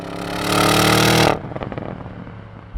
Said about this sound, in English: So let's talk about the exhaust now. Let's talk about it, because it sounds amazing.